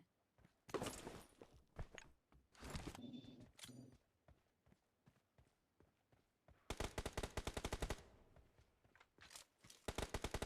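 Gunfire in a BGMI team deathmatch: scattered shots and short bursts early on, then a long, loud, rapid automatic burst near the end, with brief in-game sounds between.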